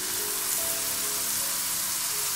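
Tomato puree hitting a hot pan of stuffed eggplant masala, giving a steady, close hiss and crackle with a faint higher tone in places. No voices break it, and the fizzing holds at an even level throughout.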